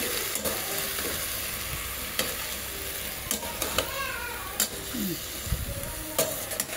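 Rayos sag leafy greens being sautéed in a pan, a continuous close sizzle broken by repeated scraping and stirring clatters from a utensil, no talking.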